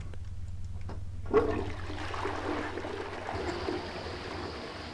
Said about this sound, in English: what if I just flush the toilet a bunch?